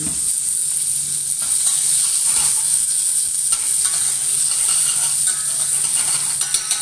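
Vegetables sweating in a hot pan over lowered heat, a steady close sizzle and fine crackle of frying with occasional stirring, continuous throughout and no voices.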